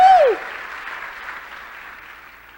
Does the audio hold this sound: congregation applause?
yes